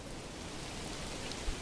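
Rain falling in the Manor Lords video game, a soft, even hiss of steady rainfall with no voices.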